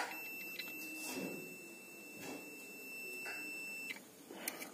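A continuity tester's buzzer, probing a small capacitor on a set-top box circuit board, gives a continuous high-pitched tone for several seconds, then cuts off, with soft clicks and handling noise underneath.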